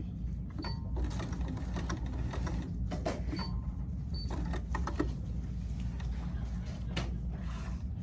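A sewing machine stitches a fabric jar gripper, running as a steady, continuous mechanical whir with rapid needle chatter and occasional clicks, close and fairly loud throughout.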